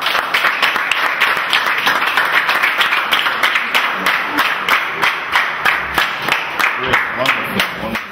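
A group of children at a village school clap loudly and steadily, their applause falling into a regular, rhythmic beat that continues throughout and stays close and prominent.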